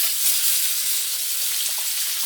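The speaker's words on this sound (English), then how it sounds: "I am going to add my garlic and my ground pork only for now" Ground pork and garlic fry in a hot pan for sausage gravy, a dense, steady sizzle with no voices.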